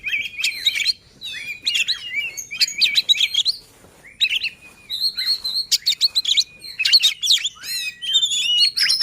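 Oriental magpie-robin singing a loud, varied song of rapid whistles, chirps and trills in repeated bursts with short pauses, close and clear with no talking.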